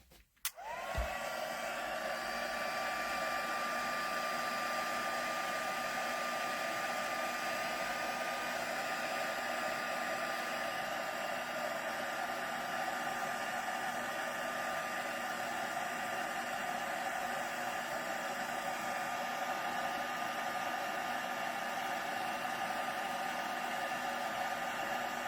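A heat tool blasts steadily to set embossing powder on a handmade card, starting with a click and spin-up whine, then a loud, continuous airy roar with a faint high tone running throughout, close up and without talk.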